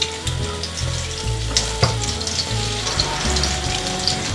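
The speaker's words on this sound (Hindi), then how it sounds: "अब हम इसको दूसरी साइड से फ्राई कर रहे हैं।" Moong dal shami kebabs fry in a pan being turned to the second side, a loud, continuous close sizzle with light crackles and a low kitchen hum.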